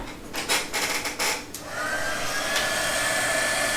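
A heat gun is used to shrink heat-shrink tubing on server cables. A few rough rubbing and handling noises come first, then the gun's steady, close blowing hiss with a faint whine, and nobody speaks.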